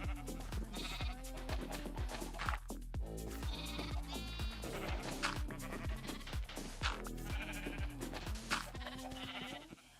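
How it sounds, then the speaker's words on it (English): Minecraft sheep in a crowded village pen, repeated bleats overlapping one after another at close range over a steady background hum, with no speech. "Sheep, move."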